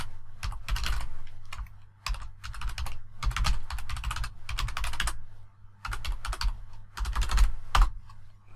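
Typing on a computer keyboard comes in several quick bursts of close key clicks with short pauses between them, alone and fairly soft.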